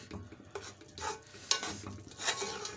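A spoon stirs roasted flax seed and flour (flaxseed and gram flour) in a pan over a low flame, giving soft scraping, rustling strokes with light sizzle and occasional clinks, fairly close and steady without speech.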